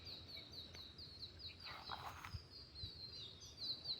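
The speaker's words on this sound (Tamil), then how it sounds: "குருவிலாம் அங்கே பாருங்கள் வந்திருக்கு" Sparrows chirping near a house in the forest, faint and distant high calls repeating over a steady background hiss, with no talk.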